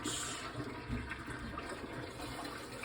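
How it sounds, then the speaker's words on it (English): Hot cooking water from boiled potatoes being poured out into a kitchen sink, a steady low rushing splash that holds for the whole moment, fairly quiet and with no talking. "We're just going to pour that out"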